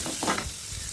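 Sliced onions sauté in a pan for a prawn roast, giving a brief, close burst of stirring scrape over a soft, steady sizzle.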